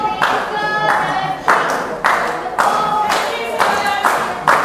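Wrestling crowd at a live pro match clapping and cheering in repeated bursts, a roomful of hands and voices rising and falling, with commentary talk running over the noise.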